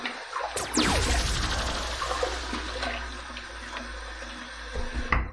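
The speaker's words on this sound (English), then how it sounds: "let's wet the face now and let's get to the shave" Water splashed onto a face before a wet shave with a safety razor, heard as close running and splashing water that swells early and continues steadily, with no talking.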